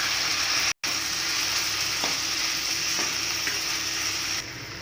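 Onion and tomato sauté in a pan with a continuous close sizzle. A few faint clicks of stirring sound over it.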